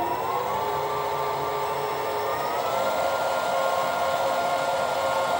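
A SIEG SC4 variable-speed lathe runs with a steady whirring motor hum whose pitch glides gradually upward as the spindle speed is adjusted, loud and continuous throughout, with no talk.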